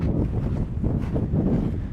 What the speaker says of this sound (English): because it's very, very windy.